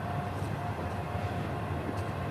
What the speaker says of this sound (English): We got a train over there.